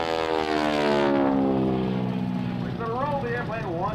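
A SNJ Texan propeller plane with a radial engine flies aerobatics at a World War II airshow, making a loud, steady engine drone whose pitch sinks as it passes close by, with faint announcer talk near the end.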